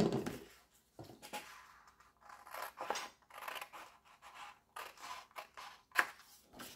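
Scissors cut paper for an autumn-themed album in a series of short snipping strokes at an uneven rhythm, close and fairly quiet, with no talking.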